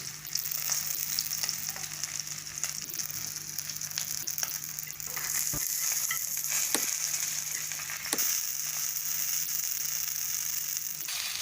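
Tilapia (jalebi fish) shallow-frying in a little oil on a flat tawa, a steady close sizzle and crackle running throughout with occasional sharp clicks and pops, no voices.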